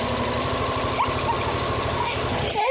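A sewing machine sews a fabric tube, its motor running steadily with a rhythmic low thumping while the pedal is pressed, then stopping abruptly near the end.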